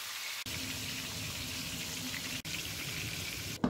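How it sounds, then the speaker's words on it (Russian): Beef ribs sear on all sides in a hot frying pan, a steady dense sizzle that keeps going with two brief dips, then a louder burst right at the end. "в сковороде, как и в кастрюле, обжариваю ребрышки со всех сторон"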